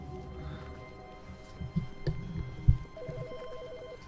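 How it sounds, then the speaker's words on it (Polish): A telephone ringing in The Stanley Parable, a faint repeating electronic trill that starts after a few scattered thumps and soft knocks in a quiet room. "Znowu dzwoni telefon."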